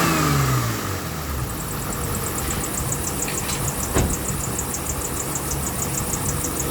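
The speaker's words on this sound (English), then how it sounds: "Let me rev the engine and see if it goes up a little bit." A 1997 Acura RL engine with a failing alternator runs steadily at a moderate rev, close and loud, with a faint high whine above it and no talking.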